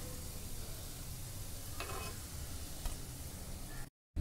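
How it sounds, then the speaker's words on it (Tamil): Mutton balls deep-frying one by one in hot oil, a continuous close sizzle with a few faint ticks and clinks, cutting off abruptly near the end. "இப்போ இது ஒன்று ஒன்றா எண்ணெயில் பொறிச்சு எடுத்துக்கோங்க"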